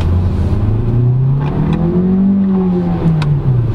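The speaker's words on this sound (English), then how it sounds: "Okay, it will automatic upshift," An MG HS dual-clutch compact crossover engine revs up loudly in the cabin, its tone rising steadily before dipping as the automatic gearbox upshifts, then climbing again.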